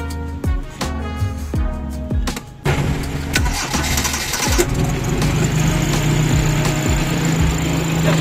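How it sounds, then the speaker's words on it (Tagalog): A car with a Toyota 2E engine cranks with a few rapid clicks and turns over, then catches and settles into a loud, steady idle rumble. "Oh, 2E engine."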